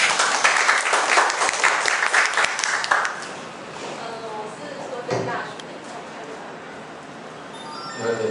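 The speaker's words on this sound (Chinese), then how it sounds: "我们掌声欢迎他。" Audience applause welcoming a speaker onto the stage at a self-introduction meetup, with a dense burst of clapping for about three seconds that thins and fades while a voice speaks over the tail.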